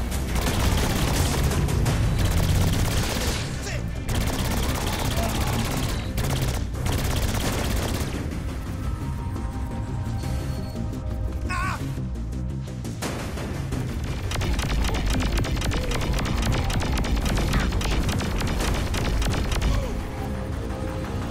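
Loud, sustained gunfire and booming blasts from the Saints Row 4 video game, with bursts of shots running through most of the stretch amid dense explosive rumble.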